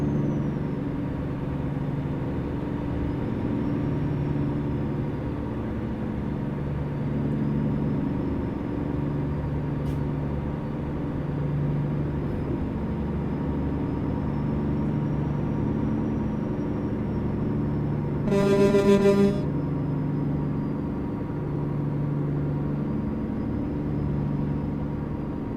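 A steady low truck engine drone from a video game truck hauling a 34,000-pound load of chlorine gas runs throughout at an even level, with one brief higher tonal burst near the end and no talking.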